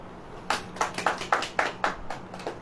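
A church congregation claps together in sharp, evenly spaced beats, about eight loud claps in a steady rhythm, with no talk.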